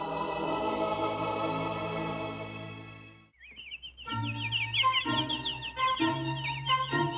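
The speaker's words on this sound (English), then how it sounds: "yes, Bambi, it's a bird." A cartoon bird chirps in quick warbling trills over light music in a Disney English-learning program, with bright repeated tweets following a sustained musical chord.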